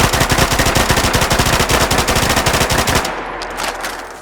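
An FN P90 fires in Fallout 4 as a sustained, loud, rapid automatic burst of about three seconds, then a short ringing tail as the shots stop.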